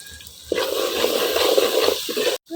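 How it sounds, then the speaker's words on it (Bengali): Water pours steadily into a pot of spiced duck meat for about two seconds, a close, continuous splashing gush that stops abruptly. "জল দিয়ে দিলাম মাংসটা যাতে পুড়ে না যায়।"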